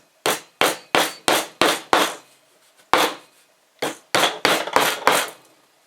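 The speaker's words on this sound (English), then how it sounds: "a couple really light hammer blows" Light hammer blows press parts into a DIY three-point leveling platform: about eleven sharp, close taps in two quick bursts separated by a short pause, with no talking.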